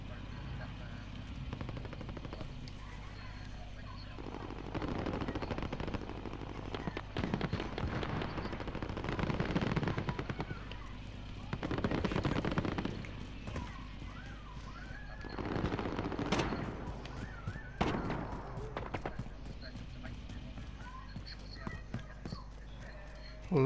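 Bursts of rapid gunfire from Call of Duty: Modern Warfare, several separate volleys with gaps between them, heard over background chatter and a low drone.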